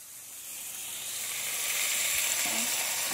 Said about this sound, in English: throw it in the pan with the steak